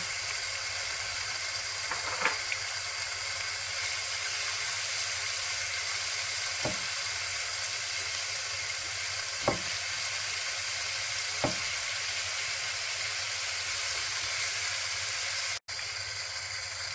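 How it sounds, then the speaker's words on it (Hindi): Whole cumin seeds fry in hot oil for kala chana chaat, a steady close sizzle and hiss throughout, with a few faint clinks of a utensil. "फ्यू सेकंड के लिए इसको फ्राई करना है। और साथ में जीरा साबुत वाला डाल देंगे।"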